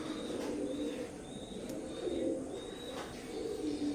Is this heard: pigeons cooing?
yes